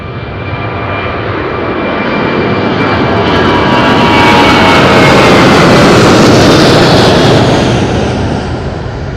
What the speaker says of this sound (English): Fantastic takeoff.